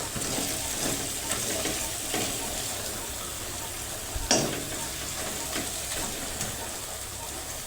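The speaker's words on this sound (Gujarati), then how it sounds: "આપણે મરચાંને સારી રીતે હલાવીને મિક્સ કરી લેવાનું છે." Chillies and tomatoes fry steadily in a pan for a lentil dish, a soft continuous sizzle broken by occasional scraping stirs and one sharper clank of the spoon.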